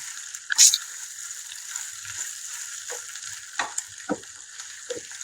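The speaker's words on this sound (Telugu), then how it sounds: "మిక్స్ చేసుకుని ఆయిల్లో కూడా ఇవి ఫ్రై అవ్వాలి ములంకాయలు అనేవి" Drumstick pieces frying in oil for a drumstick cashew curry, stirred with a few scraping strokes over a soft continuous sizzle at close range.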